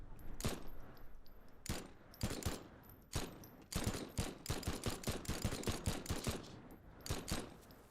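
Video game gunfire in rapid bursts, sharp cracks in quick succession forming short automatic strings with brief gaps, fairly distant and moderate in level, no talk over it.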